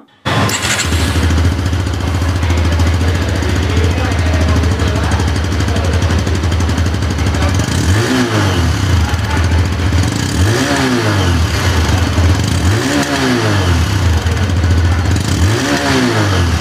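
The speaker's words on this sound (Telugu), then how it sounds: "నెక్స్ట్ దీని యొక్క ఎగ్జాస్ట్ సౌండ్ ఒకసారి విందాం" A 2025 Bajaj Platina 100cc motorcycle engine idles steadily and loudly, with several brief throttle blips rising and falling over the constant exhaust thrum.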